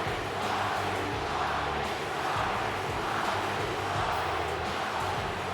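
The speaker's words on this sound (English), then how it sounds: "Crowd thoroughly in support of the People's Champ here." A wrestling show crowd cheers for a wrestler billed as the People's Champ, a steady, loud roar of many voices that fills the whole stretch with gentle rising and falling swells.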